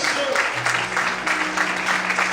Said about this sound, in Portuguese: Quando podem aplaudir e glorificar a Ele.